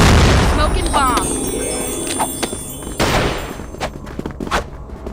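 A smoke bomb bursts in CrossFire zombie mode with a loud opening blast, followed by scattered sharper pops and bangs, while a voice speaks over it.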